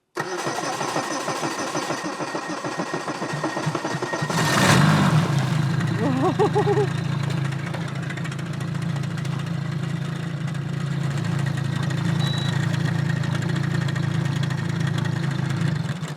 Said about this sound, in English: Let's get the motor down in the water. Let's see if she fires up.